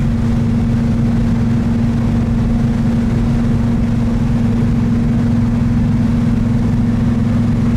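A 1969 Pontiac GTO with a 400 Ram Air III engine and four-speed cruising on a four-lane highway, heard as a loud, steady low engine drone with constant road and wind rush and no pauses.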